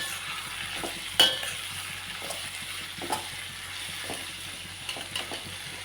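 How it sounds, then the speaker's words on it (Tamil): Onion, tomato, green chilli and ginger-garlic sautéing in a hot pan for mutton chukka, a steady close sizzle with a few sharp scrapes of stirring and no talking. "இப்போ தாளிச்சிட்டு அதில் பெரிய வெங்காயம், தக்காளி, பச்சை மிளகாய், இஞ்சி பூண்டு எல்லாத்தையும் போட்டு நல்லா வதக்கிடலாம்."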